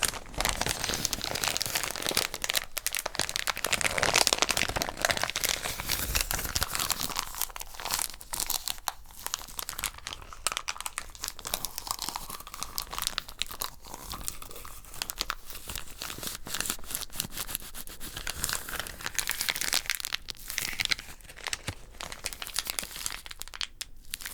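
Sandpaper handled up close as an ASMR trigger, giving continuous dense rustling, crinkling and scratching throughout with no pauses and no talking.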